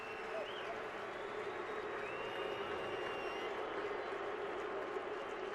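A stadium crowd at an NFL game between the Chiefs and the Broncos applauds lineman Chris Cooper, a steady, distant roar of clapping and cheering heard faintly.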